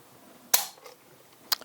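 A Remington 870 shotgun's trigger breaks on a Lyman trigger pull gauge, giving two sharp, crisp mechanical clicks about a second apart, the first louder, in an otherwise quiet space.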